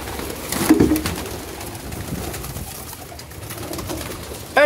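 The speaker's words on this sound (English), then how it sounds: "there's one of my biggest pigeons I have." Pigeons coo softly amid a faint background hum, with a louder coo near the start and another burst at the very end.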